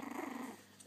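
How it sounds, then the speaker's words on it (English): A puppy growls in a short, low, pulsing rumble that fades out within about half a second, faint and close, with a small click right at the end. "She wants to come out. She's growling."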